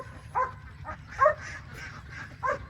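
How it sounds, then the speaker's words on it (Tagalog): Dog Jimbo barks three times in short, separated bursts, moderately close, over a low steady background hum. "Kaya tinatawalan ng aking aso na si Jimbo"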